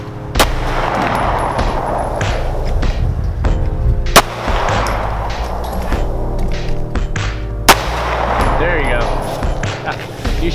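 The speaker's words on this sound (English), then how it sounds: "You shot the staple off that I put on the target." Two sharp handgun shots at firearm target practice, spaced several seconds apart and loud against a steady outdoor hum, with people talking between them.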